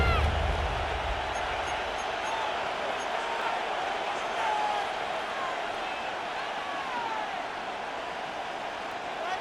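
Stadium crowd in Madden NFL 26 produces a dense, continuous roar of noise that stays loud and steady throughout, with a commentator's voice faintly present.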